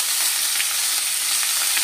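Vegetables for a Bengali chorchori hit hot tempered oil, giving a steady, loud, close sizzle and frying hiss that runs unbroken throughout with no one speaking.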